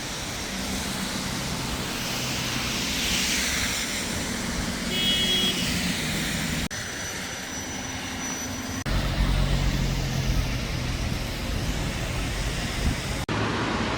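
Road traffic passes a bus stop in Germany as a steady, broad rush of engines and tyres. The sound swells and fades slightly as vehicles go by at moderate distance, with no talking.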